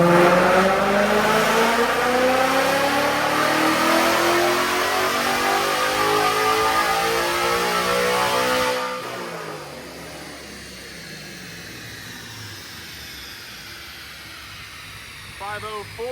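A 2024 Mustang Dark Horse with a Ghost Cam tune, E85 custom tune, headers and X-pipe winds up loudly on a dyno, engine pitch climbing steadily, then drops off to a quieter rumbling idle with a few pops near the end.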